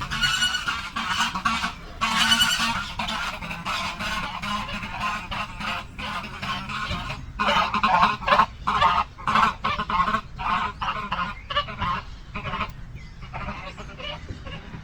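Several geese honk loudly and harshly in a real squabble, with dense overlapping calls and sharp bursts from close by throughout, briefly easing between flurries.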